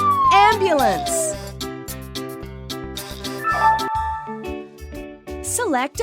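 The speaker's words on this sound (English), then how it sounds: "Ambulance." A cartoonish ambulance siren in a children's alphabet game wails up and down over bouncy game music, with short jingly effects and a voice briefly speaking.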